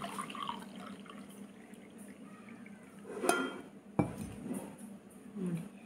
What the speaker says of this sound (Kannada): ಗ್ಲಾಸಲ್ಲಿ ಹಾಕ್ತಾ ಇದ್ದೀನಿ.